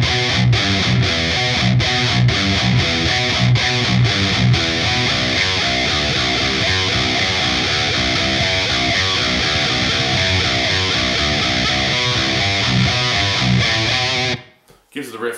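Heavy distorted electric guitar plays a driving progressive-metal riff in 7/8 over 4/4, with drums accenting it, loud and continuous, ending abruptly near the close.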